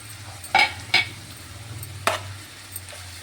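Tomatoes go into hot oil with broad beans in a pan, giving a few bright sizzling bursts and a clink or two of the spoon over a low background hum, close and without any voices.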